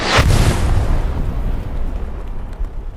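Grenade explosions in a video game match on the Carentan map at night: one loud, close blast opens, then a heavy rumbling tail and scattered debris noise fade out over a few seconds.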